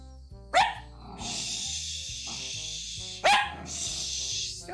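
Two sharp dog barks ring out several seconds apart, fairly close and loud, with a low hiss and a faint background hum between them.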